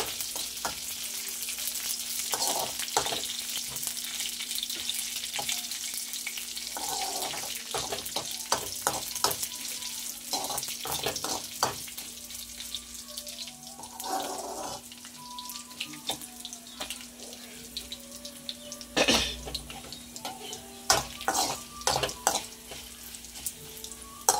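Pieces of ivy gourd fry in a pan with a continuous soft sizzle, broken by frequent spatula scrapes and clatters; toward the end the stirring gets busier and louder.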